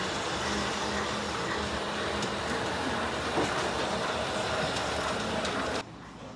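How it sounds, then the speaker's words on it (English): Steady rumbling mechanical hum with faint clicking from a small toy train running continuously along its track in a candy store, cutting off abruptly near the end. "Got a cool little train moving around the top of it here."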